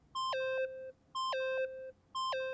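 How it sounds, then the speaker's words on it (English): Cell phone in the Danganronpa: Trigger Happy Havoc video game beeping in three identical bursts, each a bright two-step electronic tone falling in pitch, repeating about once a second, loud and clear with no talk. "Oh, hold up, that's a cell phone."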